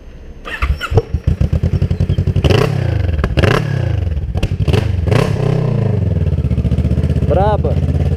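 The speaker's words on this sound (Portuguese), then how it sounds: "Olha o barulhinho do motor." A Kawasaki Z300 motorcycle engine starts with a few sputtering bursts, then settles into a steady, loud idle with occasional blips of the throttle, recorded up close; a person speaks briefly near the end.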